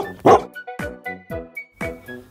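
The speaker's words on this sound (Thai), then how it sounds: "เผชิญฝูงสุนัขภูเขา" Several mountain dogs bark in a rapid series of sharp, loud, nearby barks, overlapping like a pack, one sometimes yelping.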